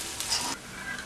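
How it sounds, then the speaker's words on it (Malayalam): Fried mustard seed tempering poured into buttermilk rasam gives a short, bright sizzling hiss that flares for about half a second, then fades into a softer crackle. "കടുക് വറുത്തത് മോരിലേക്ക് ചേർക്കാം"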